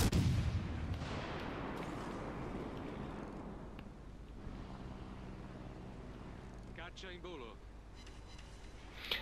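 Naval gunfire in World of Warships Legends: a loud cannon boom opens, then a long rumbling decay with distant shell impacts, under a speaking voice.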